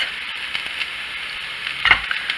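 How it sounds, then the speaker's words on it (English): Potatoes frying in a pan over medium-high heat give a steady, soft sizzle with a few light clinks, then a brief louder stir near the end. "I was cooking it on like medium-high to brown the potatoes"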